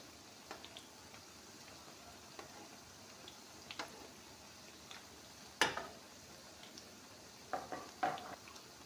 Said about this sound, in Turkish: Şimdi her iki tarafı kızarana kadar pişilerimi pişireceğim.